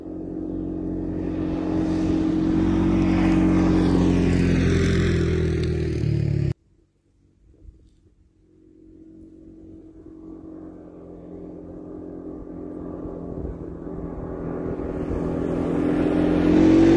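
A 2022 CForce 500 ATV rides up a road in the high mountain desert in the early morning, its engine droning loud and steady, cutting out briefly, then building back up as it climbs and accelerates.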